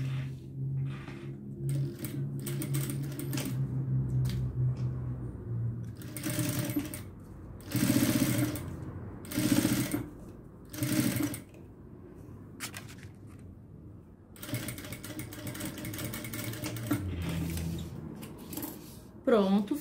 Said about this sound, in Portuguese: E agora eu vou passar uma costurinha bem bonitinha aqui em cima desse viés, bem aqui nessa bordinha